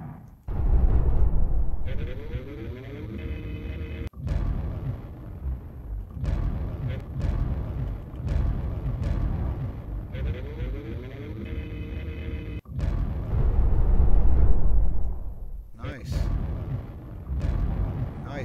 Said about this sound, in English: Ooh, I found a cannon.